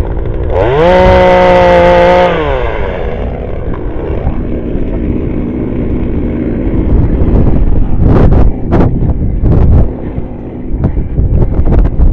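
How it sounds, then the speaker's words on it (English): A well-maintained chainsaw revs up to a loud, high whine, then settles into a rough, sustained roar as it bites into fallen timber for firewood, with sharp cracks near the end. "a guard on the chainsaw, which is really well maintained"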